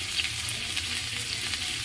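Onions frying in a pan over low heat for a chicken stew give a continuous close crackling sizzle, with no voices.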